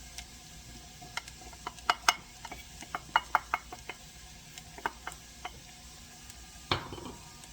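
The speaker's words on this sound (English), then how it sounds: "We're just going to cook them until we get enough of the flavor of the garlic into the butter." Garlic cooking in butter in a pan on the stove, a soft low sizzle under scattered sharp clinks and taps of a utensil against the pan, fairly quiet with no voices.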